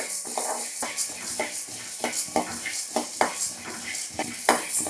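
Lentils roasting in a pan over a low flame for drumstick-flower spice powder, with repeated scraping and clinking of a spoon against the pan over a faint, steady sizzle, close and fairly busy.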